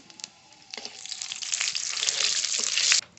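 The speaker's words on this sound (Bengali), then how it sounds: "গোটা জিরে দিলাম তেজপাতা দিলাম" Whole cumin seeds and bay leaves hit hot oil, starting with a few light pops and swelling into a loud, bright, crackling sizzle that holds steady, then cuts off abruptly near the end.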